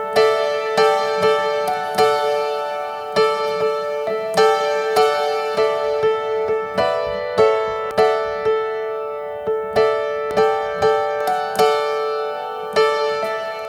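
A piano plays repeated chords in a steady, even rhythm, bright and clear with a light, thinned-out low end.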